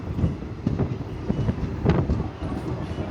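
The 19223 Sabarmati-Jammu Tawi Express pulling into Gandhinagar Capital station, a steady low rumble of rolling wagons with faint clicks and some wind noise on the microphone, continuous throughout.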